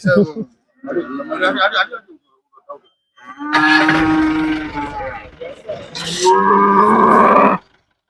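Cattle moo loudly and at length, long low bellows repeating close by, with people talking in between amid a busy outdoor cattle market.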